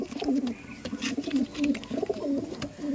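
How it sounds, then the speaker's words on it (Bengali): Giribaj pigeons cooing in a pigeon loft, repeated low throaty coos in a regular rhythm, close and fairly loud, with faint clicks and background noise. "প্রচুর অ্যাগ্রেসিভ পায়রা, ডাক দিচ্ছে কিন্তু দূর দিয়ে"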